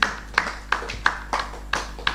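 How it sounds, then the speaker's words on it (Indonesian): A church congregation claps in unison, seven crisp, evenly spaced beats in a brisk steady rhythm, moderately quiet and with no voices over them. "Kasih tepuk tangan dulu buat Tuhan kita."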